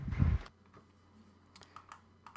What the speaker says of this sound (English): So I'm just typing the chat now.